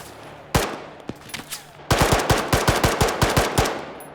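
Gunfire in the video game Arma 3: a sharp single gunshot, a few scattered shots, then a rapid burst of automatic fire rattling in quick succession, loud and close.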